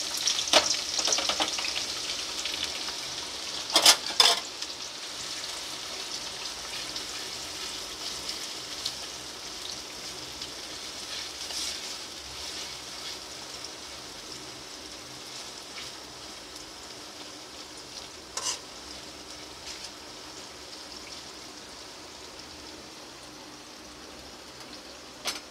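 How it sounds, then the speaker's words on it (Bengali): Onions sizzle in hot white oil in a wok, browning into crisp fried onions: a continuous close hiss with a few louder crackling bursts early on, then a steady, even fry. "তেলটা গরম হয়ে গেছে, পেঁয়াজটা দিয়ে দিচ্ছি। বেরেস্তাটা করে নিই।"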